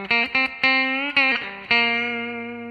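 An electric guitar plays the lick from a song, a quick run of plucked notes with slides ending on a ringing sustained note, close and clear with light distortion.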